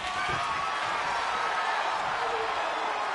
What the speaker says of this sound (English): they cheered even louder when I whipped out the table